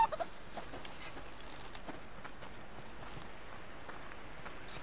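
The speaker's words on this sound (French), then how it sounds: "Il y aurait une autre poule là." Chickens cluck softly in the survival game Subsistence, with brief scattered calls over a steady low ambient hum and no talk.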